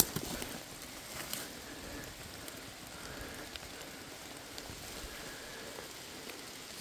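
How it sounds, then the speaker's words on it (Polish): Rain falling in a forest where young porcini mushrooms grow: a soft, quiet patter of drops on leaves with scattered louder taps, continuous and gentle throughout. "jak deszcz pada?"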